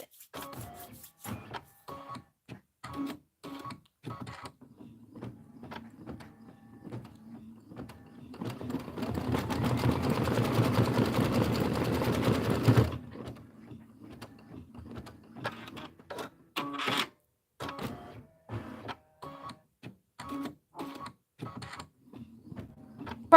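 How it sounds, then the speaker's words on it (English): A sewing machine at a sewing and vacuum shop stitches in one sustained whirring run of about four seconds, surrounded by scattered clicks and handling noises, with no talk. "Are you stitching with us, Miss Barb?"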